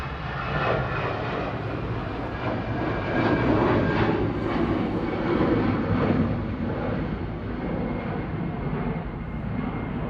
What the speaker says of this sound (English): EasyJet 5318 nach Berlin OE-IDU A320 Classic.